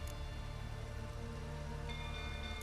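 Rain falling in The Witcher 3 video game, a soft, steady hiss of drizzle that holds constant and quiet throughout.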